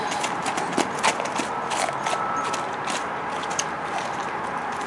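Hoofbeats of a quiet mare cantering on the ground, a steady, fairly close rhythmic thudding that keeps an even pace throughout with no talking over it.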